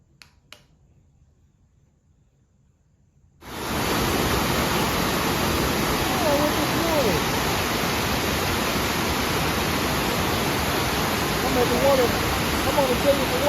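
After a few seconds of near silence, a waterfall's roar cuts in abruptly as a loud, dense, unbroken rush that holds steady to the end.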